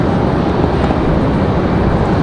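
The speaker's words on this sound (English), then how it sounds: "Spirit Airlines from Fort Lauderdale, Spirit 2098, A321 Neo 200, or the A320" A Spirit Airlines Airbus A320neo jet arriving at Raleigh Durham International airport produces a loud, steady broadband roar that stays constant through the short stretch, with no voices over it.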